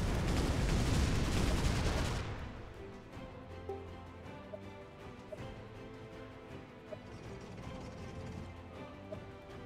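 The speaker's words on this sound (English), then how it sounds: "Poor Percy, the firework that wasn't even meant for them." Firework shells bursting in the artillery video game Shellshock Live: a loud dense barrage of explosions for about two seconds, then a softer crackling rumble with scattered small pops and chimes.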